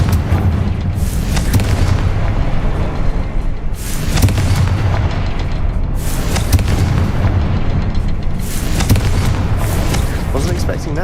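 Confringo blasting spell explosions in the Hogwarts Legacy video game: several loud, heavy booming blasts arrive in repeated bursts roughly every two seconds, close and forceful, with little pause between them.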